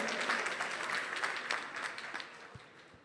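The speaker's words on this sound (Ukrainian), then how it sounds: "Будь ласка, також привітайте його оплесками." A conference audience applauds to greet investment banker Igor Mazepa, founder of Concorde Capital, with soft, fairly distant clapping from a crowd that thins out and fades over a few seconds.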